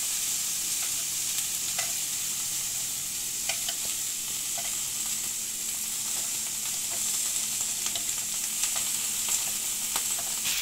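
Langoustines fry in oil on a griddle as they are turned, making a steady bright sizzle with scattered crackles and light scraping taps from turning.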